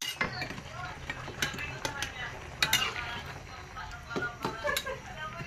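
Pansit bihon noodles with tomato are stirred in a pan, making repeated clicks and scrapes of the utensil over a light sizzle, with a voice talking throughout.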